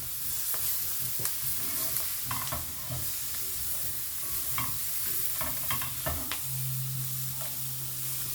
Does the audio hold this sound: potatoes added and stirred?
yes